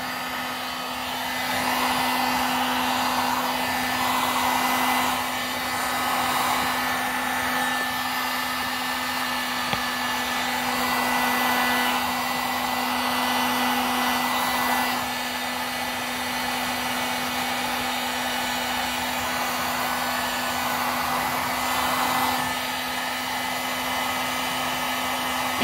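A heat tool blows hot air over custom shoes in one continuous, steady whir with a constant hum, close and fairly loud, easing slightly at moments as it is moved across the surface.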